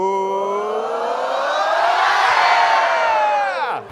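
A group at a class event cheers and whoops together, one sustained rising and falling yell that swells for about four seconds, then cuts off abruptly.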